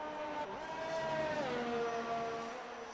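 Race car engine in a sim racing game at a round in Austria, a single car passing with a rising then falling pitch sweep, fairly loud and steady over about three seconds with no talk.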